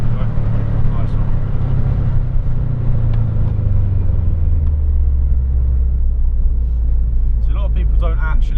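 A Subaru Impreza WRX STI accelerating on a track, a loud engine drone that sweeps downward in pitch as it pulls away, steady and close, with a voice briefly speaking near the end.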